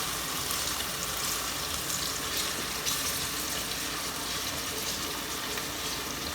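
Onion fries in a pan for country chicken dum biryani, a dense, even hiss that holds steady throughout with no voices.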